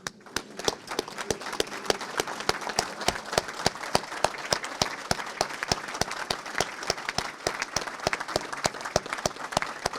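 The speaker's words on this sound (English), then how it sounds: "let us stand and applaud our moms" Audience at a Louisiana Saint Joseph the Worker Day event applauding as they stand, many distinct claps forming a sustained ovation heard from some distance, moderately faint.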